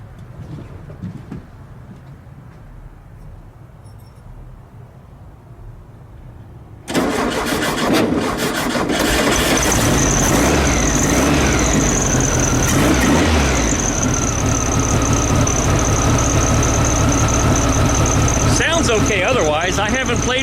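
A VW engine fitted with Weber 34 ICT carburetors cranks and catches partway through, then settles into a loud, steady, slightly uneven idle close by; quieter background noise comes before the start.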